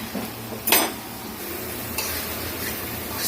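Spice paste with vinegar for rohu fish is stirred and sautéed in a pan. One loud metallic scrape is followed by lighter clinks and stirring over a faint, steady sizzle.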